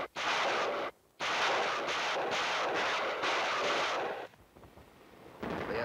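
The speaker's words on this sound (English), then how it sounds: "the rocket launchers move in and lay down a barrage" A rocket launcher barrage in Korean War documentary footage: a dense, continuous roar of fire and blasts with a few brief gaps, loud and rumbling throughout.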